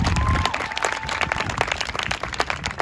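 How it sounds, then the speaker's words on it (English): A crowd at a talk event claps in a brief, loud round of applause, with sharp individual claps standing out from the steady mass of hand clapping. "So can we get a round of applause for that?"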